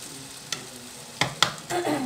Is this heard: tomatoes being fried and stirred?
yes